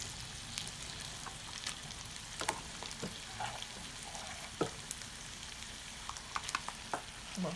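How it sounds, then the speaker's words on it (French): Rice for a Cantonese-style fried rice with sausage and corn is added to a hot frying pan and stirred, a continuous crackling sizzle broken by frequent sharp scraping and tapping clicks of the spatula. "je vais venir ajouter le riz et puis je vais venir tout mélanger"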